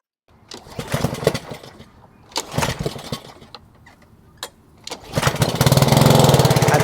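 A gas pressure washer engine pulls over and starts in several short, loud bursts separated by quieter gaps, then catches and runs with a steady, buzzing drone for the last couple of seconds, with no voices.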